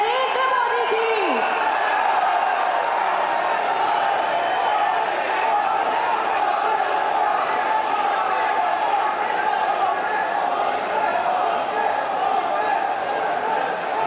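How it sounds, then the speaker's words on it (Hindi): A large crowd welcomes Prime Minister Narendra Modi at a programme marking one year of a state government, with dense, continuous applause and shrill ululation that hold steady and loud throughout. "जोरदार करताली एवं हुलहुली दे स्वागत करिबा माननीय प्रधानमंत्री श्री नरेंद्र मोदी जी।"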